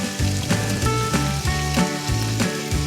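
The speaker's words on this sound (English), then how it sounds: "Now I'm going to dump in my cabbage." Onions and cabbage sizzle loudly in a pan, a dense steady frying hiss with repeated utensil scrapes at a regular pace, close and without voices.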